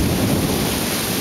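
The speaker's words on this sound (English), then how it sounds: "Now that's thunder." Thunder rumbling during a storm at Cofradia, a loud steady roar with rain and wind noise filling the background throughout.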